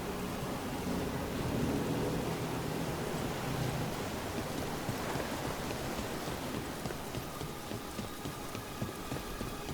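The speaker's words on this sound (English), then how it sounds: "By the waterfall." Steady roar of a waterfall in the fantasy video game Dragon Age: The Veilguard, a dense, constant rushing wash of falling water that stays loud and unbroken throughout.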